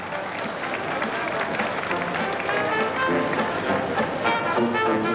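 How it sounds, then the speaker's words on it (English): Crowd applause and cheering ring out at the 1987 Melbourne Cup parade for Piping Lane, a racehorse from Tasmania ridden by Neil Perryman; a dense, steady roar that holds throughout, with a voice talking over it. "What a big round of applause for a horse who's come all the way from Tasmania, Piping Lane."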